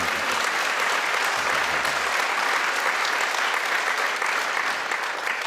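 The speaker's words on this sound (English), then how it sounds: "the applause took the words right out of my mouth" A festival crowd at the Perth Writers Festival 2015 applauds a literary session, dense and steady clapping filling the room for several seconds with no voices over it.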